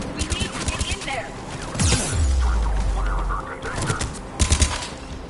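Bursts of rapid gunfire crackle through a loud Mass Effect 3 combat scene, clustered volleys at the start and end with a low rumbling swell between them.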